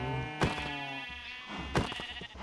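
Sheep bleating in Minecraft, two separate wavering bleats about a second apart, fairly close and clear over a soft game background with no talking.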